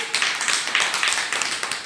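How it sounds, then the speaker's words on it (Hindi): Children in a classroom applaud together, a dense burst of rapid hand claps close by, keeping a steady rhythmic patter for about two seconds. "जोरदार ताली भाई"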